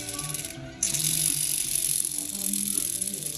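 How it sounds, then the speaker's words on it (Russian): A worn, humming bearing from a Toyota Vellfire CVT with a damaged hardened surface, turning with a steady mechanical whir and light rattling texture beneath a loud broadband hiss that swells abruptly early on. "Вся проблема в гудящем подшипнике, как я и говорил."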